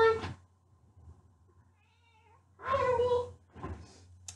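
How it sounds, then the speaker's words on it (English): A house cat meows twice close to the microphone, a loud drawn-out yowl followed by a shorter cry, in an otherwise quiet room with a faint low hum. "My cat's yelling at me."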